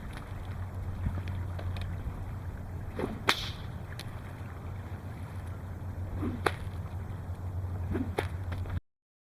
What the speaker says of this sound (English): Just the basic crack, which is called the Cattleman's crack.